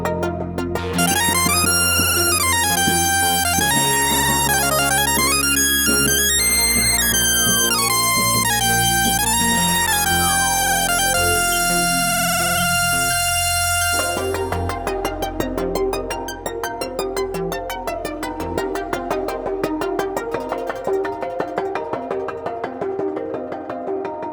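A lead synth patch on a Yamaha Montage M8x at SUPERBOOTH24 plays bright gliding tones that sweep up and down in repeated arcs over a sustained layered pad, later breaking into rapid, busy notes. It is loud and continuous, with no talk.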